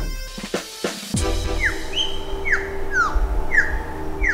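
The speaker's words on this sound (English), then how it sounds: "Ever wonder what a bird song looks like?" Amazon rainforest bird song: a series of clear, sharply falling whistled notes repeated about every half second, following a few sharp knocks at the start, set against a steady low ambient hum.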